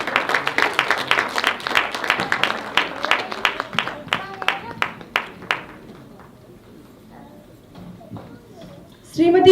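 Audience applause at an awards ceremony: brisk clapping that thins into scattered individual claps and fades to near silence before a voice starts at the end.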